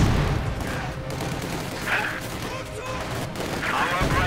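Gunfire and grenade blasts from the World War II strategy game Company of Heroes 2 form a dense, steady din of shots and muffled bursts. A commentator talks over the battle.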